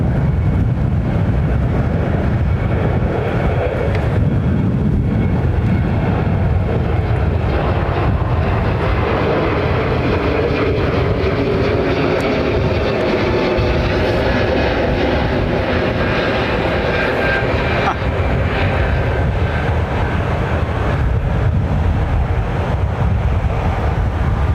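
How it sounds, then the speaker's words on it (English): An Airbus A321 narrow-body jet takes off at Heathrow, its engine roar loud and sustained with broad rushing noise and wind buffeting on the microphone, swelling slightly midway. "How quick these narrow jets go up, narrow body jets go up."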